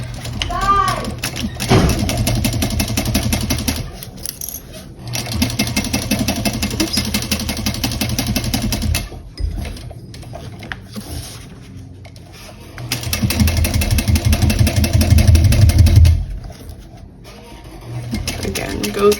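A hand-cranked sewing machine stitches slowly around the top of a small bowler bag. The mechanical whirring and ticking come in bursts separated by short pauses, close by, with a voice speaking over parts of it.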